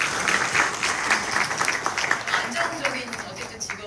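An audience at a talk show breaks into steady applause, many hands clapping together for several seconds before it slowly thins out.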